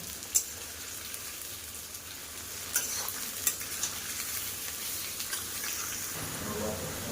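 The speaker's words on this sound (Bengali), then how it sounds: "পেঁয়াজগুলোকে একটু ভাজা করে নেব" Chopped onions sizzle in a hot karahi with oil tempered with cloves and cinnamon. A steady close hiss of frying runs throughout, broken by a few sharp clicks and scrapes of stirring.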